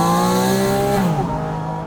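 Porsche 718 Spyder RS flat-six engine with process air intakes, a loud, close harmonic engine note that sweeps down as revs fall, steady and alone with no talk.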